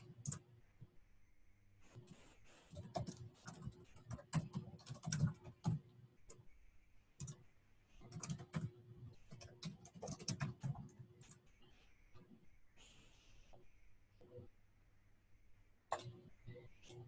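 Computer keyboard typing, quiet bursts of clicky keystrokes in irregular runs with short pauses, heard close and faint.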